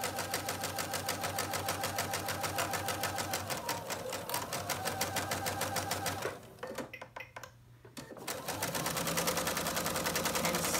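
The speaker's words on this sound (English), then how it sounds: "I'm gonna sew, make sure I lock, reverse to lock in those stitches." A sewing machine sews a 1/4 inch seam and reverses to lock the stitches. Its even, loud whirring motor and needle rattle run most of the way through, with a short pause about two-thirds in before the stitching resumes.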